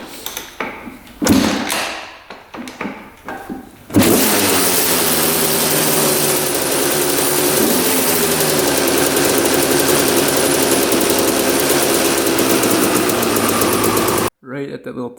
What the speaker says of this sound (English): All right, we're gonna start the bike, see what happens here